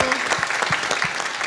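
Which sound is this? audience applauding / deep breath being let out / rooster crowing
audience applauding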